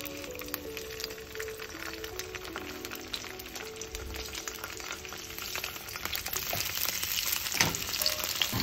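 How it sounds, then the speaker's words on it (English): Salmon fillets sizzle skin side down in a hot pan for a quinoa bowl, a steady close frying hiss that grows louder toward the end, with a few faint clinks. "You wanna make sure there's a nice sizzle"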